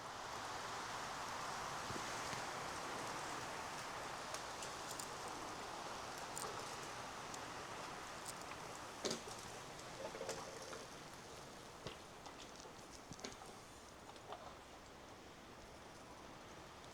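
Trees on Longridge Fell tossing in the wind, giving a steady, soft rustle and whoosh of moving branches and leaves that holds for the whole stretch, with a few faint knocks and crackles near the end.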